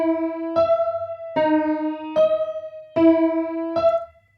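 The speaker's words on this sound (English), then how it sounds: "that trick is adding warp effect, or sort of making the sound feel more older and retro" A piano melody in FL Studio run through Fruity Delay 3 with a warp effect for an older, retro feel, a series of sustained tonal notes struck at a steady pace, clear and alone.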